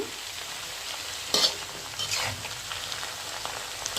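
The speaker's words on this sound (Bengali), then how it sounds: "নেডুস পাতা রান্না করতেছি আমি, ভাজি করতেছি।" Nedus leaves fry and get stirred in a pan, a continuous soft sizzle with one brief scraping clatter and a smaller stir shortly after.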